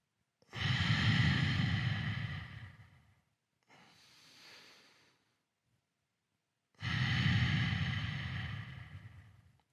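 Deep, slow breathing during a seated yoga stretch at a desk: a long loud exhale, a softer inhale, then another long heavy exhale, close and clear with silence between.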